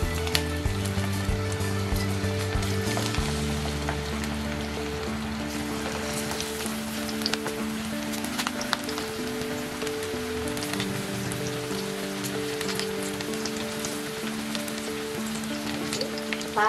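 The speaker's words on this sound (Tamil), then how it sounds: "ஆயிலும் விட்டு ஆயில் நல்லா சூடானதுக்கு அப்புறமா ஒவ்வொரு துண்டுகளாக போட்டு பொரிச்சு எடுத்துடலாம்" Cauliflower pieces deep-frying in hot oil, a steady dense crackling sizzle like rain on a surface, continuous and even throughout with a low hum beneath and no voices.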